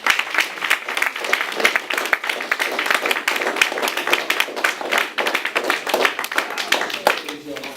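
An audience applauds a young essay reader at an honorary Black excellence event, a close, dense patter of individual hand claps that stays lively throughout, with voices mixed in under it.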